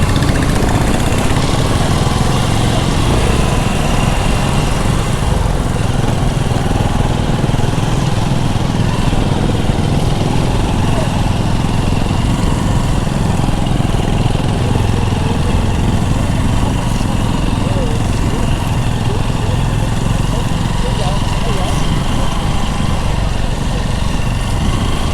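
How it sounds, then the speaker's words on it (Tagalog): Several motorcycles pass along a slippery, muddy road, their engines forming a loud, continuous drone that never drops away, with no talk over it. "daming motor ah. May 10 motor to."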